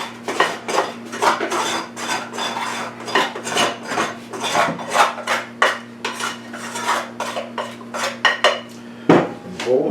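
Bowl scraper dragging dough around a mixing bowl for cinnamon apple flatbread, a continuous close scraping and clattering against the bowl with rhythmic strokes and knocks, no talking.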